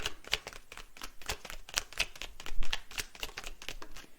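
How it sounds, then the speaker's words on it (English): Rapid, crisp clattering of stiff tarot cards riffling in quick repeated bursts, close by and steady throughout, with no voices. "We need to shuffle the deck."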